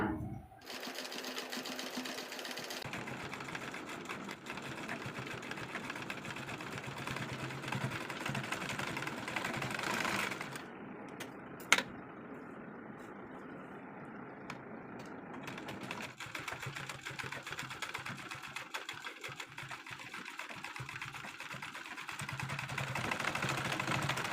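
A sewing machine stitches a piece of cloth for a pleated nighty neck, running in a steady, close mechanical whir that changes pitch partway through, with a brief pause and a sharp click in the middle.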